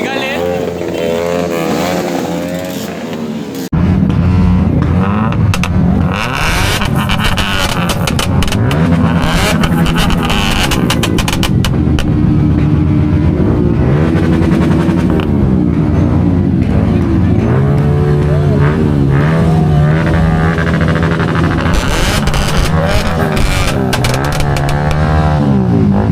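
A large group of motorcycles setting off together on an Independence Day ride, engines droning and revving loudly and continuously after a brief quieter start, with people talking over the noise.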